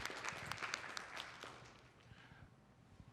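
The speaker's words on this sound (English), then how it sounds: "Round of applause." Conference audience applause at a creativity industry session: a brief, faint burst of scattered clapping that thins and dies away within a couple of seconds.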